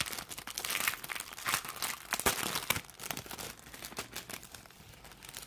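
Crinkly paper packaging being opened and handled, with crisp crackling bursts and tearing rustles up close, no voices.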